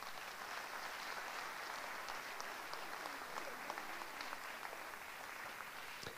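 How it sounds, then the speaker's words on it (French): A ceremony audience at a mayor's New Year greetings event in Luçon applauds with a dense, even patter of many hands, held softly for several seconds with no talk over it. "Oui, on peut les applaudir, hein."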